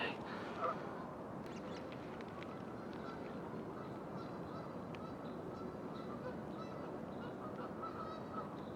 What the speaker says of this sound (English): these geese might scare all this wildlife off because they're so damn noisy